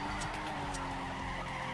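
Tires skid steadily as the front brakes lock up on a pro drift car in the PC game Torque Drift, a continuous loud screech with engine noise underneath.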